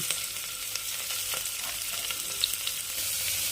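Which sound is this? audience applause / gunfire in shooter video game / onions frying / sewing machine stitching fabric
onions frying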